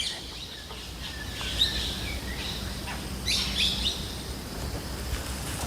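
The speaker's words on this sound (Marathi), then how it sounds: "वेगवेगळे पक्षी ओरडत आहेत." Faint, scattered calls and chirps of various birds in the quiet forest of the Pench tiger reserve buffer zone, over a steady outdoor background, a few brief calls standing out.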